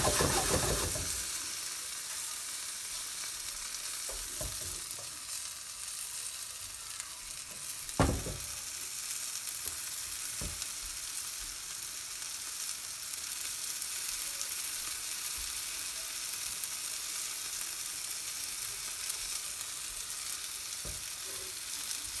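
Chicken tenders frying in oil over medium heat produce a steady, close, dense sizzle that runs unbroken for the whole stretch, with a few brief clicks and knocks from utensils against the pan.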